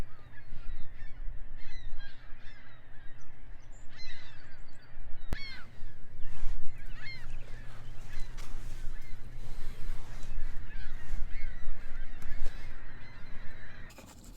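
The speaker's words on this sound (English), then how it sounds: "the beautiful birds above me singing their little song" At dawn by the water at a car campsite, a flock of geese honks continuously overhead, loud and overlapping, a busy chorus of calls lasting throughout.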